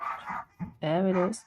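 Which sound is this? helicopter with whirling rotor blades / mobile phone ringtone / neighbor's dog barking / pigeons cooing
neighbor's dog barking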